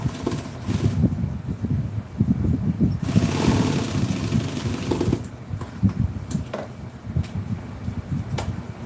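An industrial sewing machine runs a top stitch along a 1966 Chevy truck seat cover, its motor whirring in short bursts with pauses and a longer steady run in the middle.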